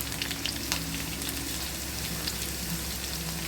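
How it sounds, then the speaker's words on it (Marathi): Finely chopped, grated garlic frying in a pan while preparing a raw-potato breakfast snack, giving a steady, close sizzle with light crackles throughout and no talk. "तर आपण इथं सोबत टाकून घेऊया बारीक चिरलेला लसूण बारीक किसलेला लसूण आहे हा"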